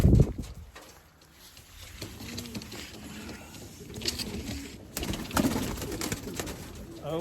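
Pigeons coo softly among a loft of birds, with low repeated warbling calls and light shuffling, interrupted by bursts of handling noise and a brief voice nearby.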